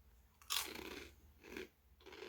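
Fritos Scoops chili cheese corn chips are bitten and chewed close up, giving three crisp, sharp crunches with short pauses between them. No one talks over the crunching.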